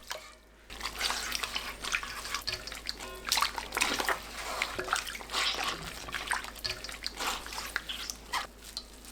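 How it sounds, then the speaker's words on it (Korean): Grated chestnut pulp kneaded by hand in water in a bowl, giving continuous wet squelching, sloshing and dripping sounds, close and fairly steady throughout. "5리터 중 물 절반 넣고 한 번 더 치댑니다."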